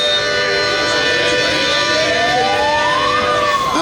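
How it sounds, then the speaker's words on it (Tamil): Ambulance siren wailing loud and continuous throughout, its pitch sweeping upward near the end as the vehicle moves past on the street. "ஆம்புலன்ஸ் போகுது"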